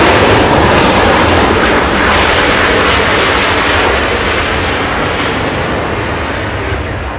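Boeing 777 jet engine roaring at night at Los Angeles International Airport, a loud, steady broadband rumble that holds throughout and fades slightly toward the end.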